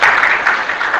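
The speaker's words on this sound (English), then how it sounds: "Give a clap." Audience applause at a communication skills workshop for youth and students in Hyderabad, a brief dense burst of many hands clapping close by, loud and steady for about a second.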